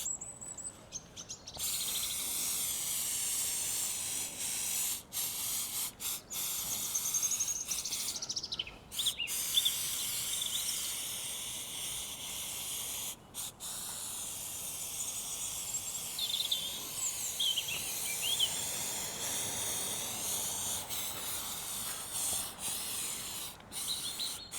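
An aerosol can sprays Jenolite stop leak sealer across a campervan roof in a steady, soft hiss that breaks off briefly several times, with birds chirping and insects buzzing in the background.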